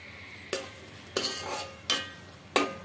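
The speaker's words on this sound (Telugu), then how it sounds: "ఇక్కడైతే ఆనియన్స్ అయితే ఫ్రై చేసుకుంటున్నానండి" Onions frying in oil in a pan for egg dum biryani, a steady close sizzle broken by four sharp bursts of stirring and scraping spaced about a second apart.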